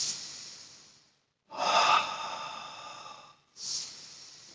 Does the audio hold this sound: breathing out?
yes